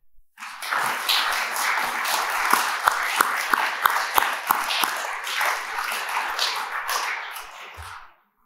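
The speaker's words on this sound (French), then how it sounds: "je pense que nous pouvons l'applaudir" An audience at a national association convention in Reims breaks into applause, a dense burst of many hands clapping that starts abruptly, holds steady with a few sharper claps standing out for about seven seconds, then quickly dies away.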